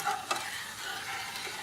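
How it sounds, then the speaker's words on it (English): A homemade shampoo mixture bubbles and sizzles in a pan while a utensil stirs it, making a steady close hiss with small scraping clicks. "I'm just going to boil this up to the thickness that I want it."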